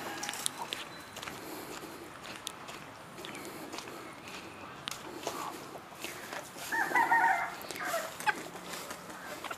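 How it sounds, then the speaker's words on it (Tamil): A couple of backyard hens cluck in short, scattered bursts with a louder run near the end, over faint rustling and shuffling steps nearby. "இங்கே பாருங்கள் இங்கே ஒரு 2 கோழி இருக்குது."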